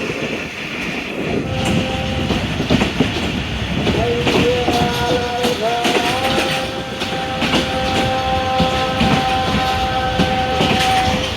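Loud rumble and rattle of the Tezgam passenger train rolling along the rails in Pakistan, with rhythmic clacks and sustained metallic squeals from the wheels, continuous throughout.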